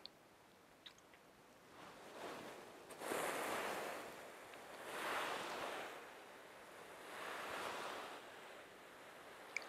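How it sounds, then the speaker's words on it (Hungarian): Spelt husk filling inside a meditation cushion rustles in slow, swelling surges that rise and fade roughly every two seconds, like soft sea waves washing in, with no voices. "A biotönkőinek a hangja szinte olyan, mint hogyha"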